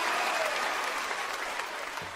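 Audience applause for a singer at a Lunar New Year bolero stage show, a dense burst of clapping from a crowd that slowly tapers off.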